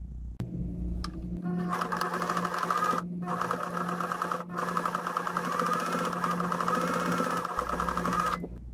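A sewing machine stitches a fabric lining in rapid, even bursts, its whirring mechanical chatter running steadily with two brief pauses, close by and moderately quiet, with no talking.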